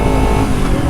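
Loud, close drone of a 250R motorcycle called Mamba running through its Laserbit Evo 1 full-system aftermarket exhaust, steady and continuous for about a second with no talking.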